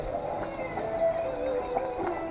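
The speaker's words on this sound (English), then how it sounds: "So, I'm going to run some hot water." Hot water runs from a tap in a home kitchen, a soft, continuous pouring and splashing heard close up and alone.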